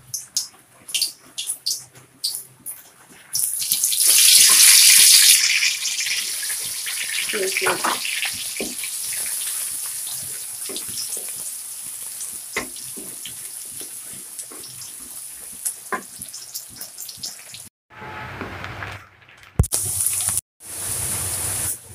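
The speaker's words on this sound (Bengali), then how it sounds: "শুকনো মরিচ দিয়ে দিচ্ছি তেলের ভিতরে" Dried red chilies hit hot frying oil with a loud, bright sizzle that builds quickly, then settles into a steady, softer crackle through most of the stretch. The sizzling cuts out briefly near the end.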